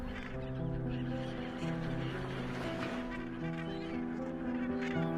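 A dense Cape Gannet colony on a flat, rocky island calls in a continuous, overlapping chorus of harsh honking cries, loud and near, with no pauses.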